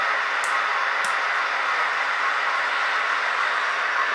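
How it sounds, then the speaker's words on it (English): A model train runs along a layout track with a steady, even rushing hum that holds at constant loudness, a couple of faint high clicks at the start. "It seems how the last train went by."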